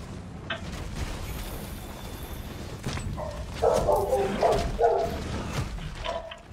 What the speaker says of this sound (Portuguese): Eita cachorro desgraçado, parece que adivinha a hora que eu entro em live